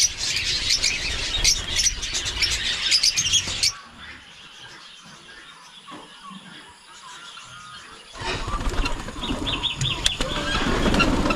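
Pet pigeons stir and flutter in their loft, wanting to fly out, with busy squawks, chirps and wing noise close by that thin out to quiet rustling midway before building up again.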